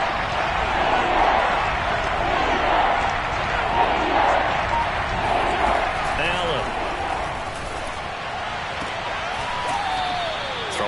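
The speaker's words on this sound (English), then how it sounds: "Crowd getting in it a bit already" A football stadium crowd at a Dolphins vs. Bills NFL game roars in a steady wash of noise, with a commentator talking over it throughout.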